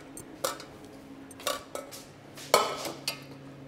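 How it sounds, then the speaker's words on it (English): Pans and metal utensils clink and clatter in a few sharp, separate knocks while venison sauce is strained through a sieve. The kitchen sounds are fairly quiet and close, with no talking. "strain that sauce now."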